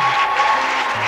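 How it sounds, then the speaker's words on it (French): A church congregation claps and cheers loudly in praise, a brief, steady wash of applause with a sustained tone underneath. "Nous acclamons très fort le Seigneur"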